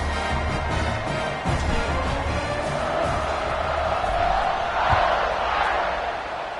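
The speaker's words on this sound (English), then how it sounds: "this crowd is buzzing after that last score" A football stadium crowd buzzes after a score in a Notre Dame versus Texas game, a loud continuous roar of many voices swelling near the end, with a commentator's voice over it.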